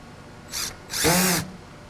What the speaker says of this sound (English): Drive the screw all the way in until the felt part of the bit actually touches the surface of the trim